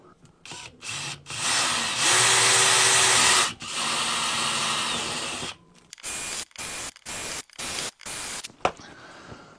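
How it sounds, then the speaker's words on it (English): A power drill bores a pilot hole into a caravan roof, running loud and steady for several seconds, then cutting in and out in a series of short bursts near the end. "We're just drilling the pilot hole,"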